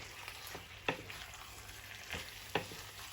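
Spaghetti with vegetables and meat being stirred in a frying pan, a steady faint sizzle broken by a few scraping utensil strokes, no talking.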